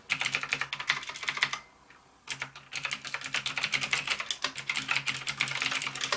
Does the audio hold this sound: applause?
no